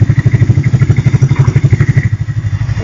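A motorcycle engine idling after a first-kick start, loud and close with a fast, steady thumping beat and mechanical clatter, no voices.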